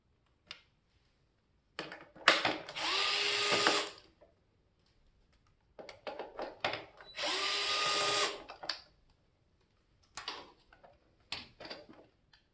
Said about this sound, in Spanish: quitamos los 4 tornillos que sujetan todo el conjunto del láser